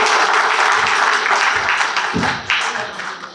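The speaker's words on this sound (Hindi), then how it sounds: "तो एक बार यहाँ के स्टाफ के लिए भी जोरदार तालियां हो जाए" An audience claps loudly for staff at a gathering in Kalimpong, a close, dense burst of hands with a brief dip before picking up again.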